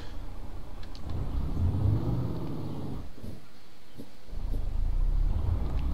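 A truck engine rumbles steadily in the Reaper The Truck Driver 2 driving game, its low drone dipping briefly mid-way before swelling back up, close and continuous with no talk.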